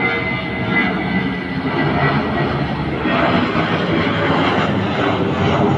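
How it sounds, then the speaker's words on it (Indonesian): An airplane taking off near Minangkabau International Airport in Padang Pariaman, heard as a loud, steady broadband engine roar that holds throughout with no pauses and no talk. "di ujung sana juga terlihat pesawat yang akan lepas landas siang ini"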